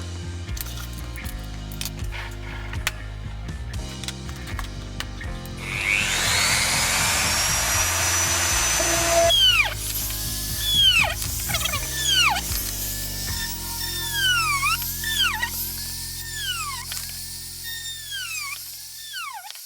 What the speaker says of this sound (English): I will also drill the holes for the eyelets.